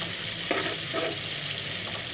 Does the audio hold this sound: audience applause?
no